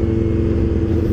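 A Honda Phaser 50 motorcycle drones loudly nearby, its engine a dense steady rumble heard without any talk.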